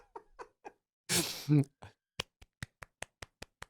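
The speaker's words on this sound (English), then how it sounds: "Golf clap, my friend." Soft, sparse golf clap from one person, a string of light, evenly spaced claps near the mic, briefly interrupted by a burst of laughter or a vocal sound before the claps resume.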